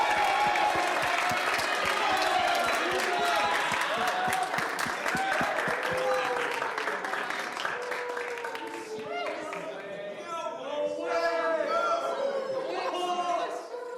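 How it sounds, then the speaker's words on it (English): Church student-group audience clapping and cheering as a preacher comes up, dense and lively at first, then thinning out into crowd chatter and voices toward the end. "if you guys want to start clapping"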